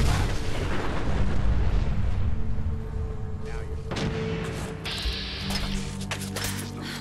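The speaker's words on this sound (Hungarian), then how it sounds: "Felrobban." A loud explosion in the video game Fallout 4, heard as a heavy, sustained rumbling blast with booming low end that slowly fades into settling debris and ambient game noise over several seconds.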